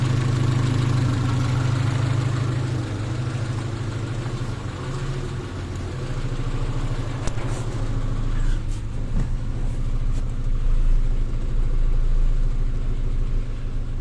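A car engine idles with a steady, loud low rumble while being switched over to run on gas, holding an even drone throughout with slight shifts in tone.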